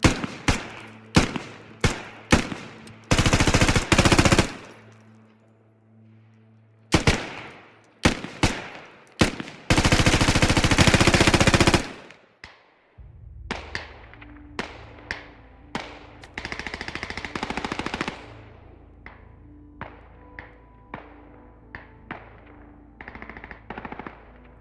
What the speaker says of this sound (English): Anders has been at work and has adjusted the close and distance sounds of the M4.